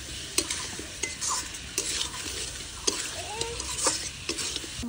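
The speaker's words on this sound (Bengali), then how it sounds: "আমার চাউলটা ভাজা হয়ে গেছে" Rice fries and is stirred in a pot for chicken biryani, a soft steady sizzle broken by repeated metal spoon scrapes and taps against the pot, fairly quiet and close.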